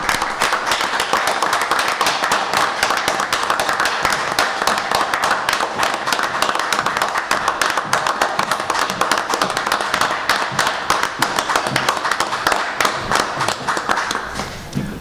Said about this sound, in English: I think we ought to give that family one big round of applause